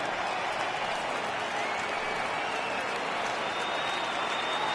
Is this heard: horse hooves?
no